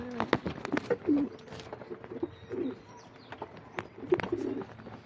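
Pigeons in a cage give soft, low repeated coos, fairly close. Scattered clicks and light rustling come from around the birds.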